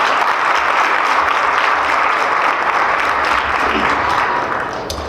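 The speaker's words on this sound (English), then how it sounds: "So please, let's give them a round of applause." An audience claps in sustained, even applause for about five seconds that thins slightly toward the end, with no speech over it.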